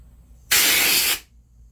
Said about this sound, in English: I went ahead and sprayed all this off with the air compressor